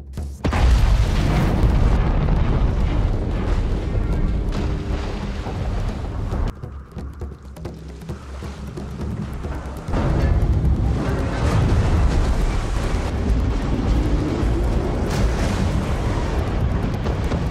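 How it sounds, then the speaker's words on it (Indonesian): A thunderous explosion blasts through a wall holding back seawater in the film Kingdom of the Planet of the Apes, a loud rumbling roar that dips briefly mid-way and then surges back as a sustained, heavy crashing wash. "May pun berlari untuk menyalakan pemicu untuk meledakkan tembok"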